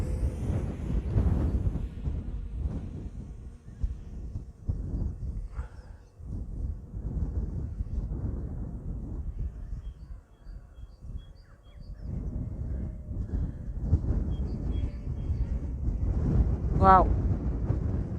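Gusting wind buffets the microphone outdoors, a heavy low rumble that rises and falls throughout while a person talks over it.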